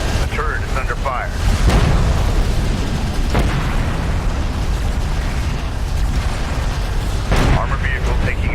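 Battle sounds from the Homeworld: Deserts of Kharak strategy game fill the scene: dense continuous booms, bursts of gunfire and explosions, loud and layered, with radio-style unit voices reporting over the din.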